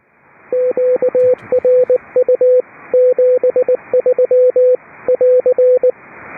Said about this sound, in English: Great CW signal.